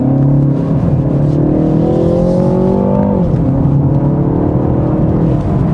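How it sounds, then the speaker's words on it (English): A 2023 BMW 330i M Sport G20 sedan accelerates hard, its engine note climbing steadily through the revs, dropping briefly at a gear change, then rising again, loud and close from inside the cabin. "The way this car picks up speed."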